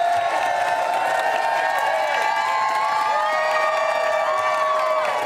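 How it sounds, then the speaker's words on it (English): Hundreds of people cheer loudly for a store employee on his last day of work, a dense, sustained roar of crowd voices with whoops and shouts that never lets up. "Hundreds of people cheering Tim on with signs and balloons."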